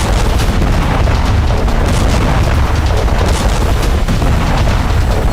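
A missile strike blast on the city of Poltava sounds as a dense, loud, continuous roar of booms and rumbling, with no voices heard.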